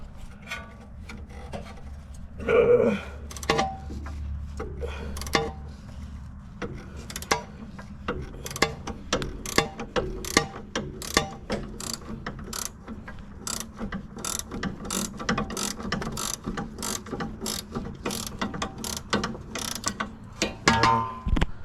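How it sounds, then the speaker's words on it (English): Battery-powered ratchet loosening bolts on a 2004–2012 Honda Accord during a lower control arm and strut job, a rapid series of sharp metallic clicks in repeated close bursts, loud and near with no talking. "my battery ratchet on there and take it off easily"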